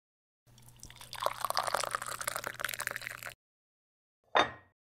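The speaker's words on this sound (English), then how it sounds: "I find solace in the simple act of doing the dishes. The warm water washes away the day's stress" Warm water runs from a tap while dishes are washed, a close, steady splashing and trickling stream for about three seconds, then silence, followed by a short final splash.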